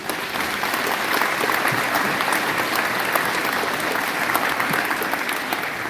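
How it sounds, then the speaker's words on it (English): A crowd at a senior awards ceremony applauds the honorees, producing dense, loud, sustained clapping that holds at a constant level with no voices over it. "So big round of applause for yourself."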